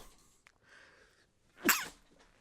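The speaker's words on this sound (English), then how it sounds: "I'm gonna sneeze." A single loud human sneeze bursts out close by after a stretch of quiet room tone, followed by a brief breathy tail.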